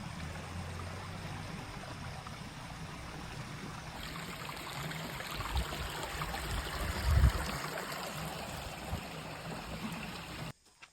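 Continuous rushing water from Talon Pari Falls, broadband and steady, with a louder surge partway through before cutting off abruptly.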